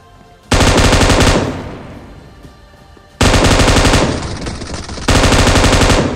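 In a mobile shooter game, a PP submachine gun fires three loud, rapid automatic bursts, each a dense roar of shots that tails off into echo before the next volley.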